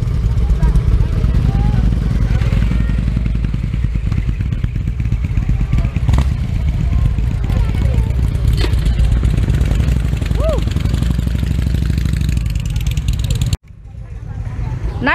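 Motorcycles idle in a loud, steady, rumbling chug with brief revs, close by, under people talking, before the engine noise cuts off sharply near the end.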